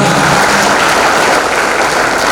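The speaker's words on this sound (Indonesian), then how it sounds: "Oh, tepuk tangan ya." A crowd claps steadily and loudly, dense applause filling the whole moment without pause.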